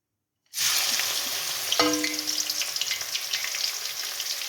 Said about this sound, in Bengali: পেঁয়াজটাকে আমি বাদামি কালার করে ভেজে নেব